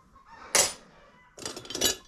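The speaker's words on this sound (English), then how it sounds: "Apologize for the chickens, we might hear them talking for a while now." Chickens cluck nearby in two short bursts, a sharp squawk and then a longer run of throaty calls, with quiet gaps between, in a workshop setting.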